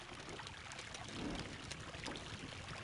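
A fountain splashes and trickles steadily inside a large library in the video game Indiana Jones and the Emperor's Tomb, producing a soft, continuous, fairly faint wash of water with no talking.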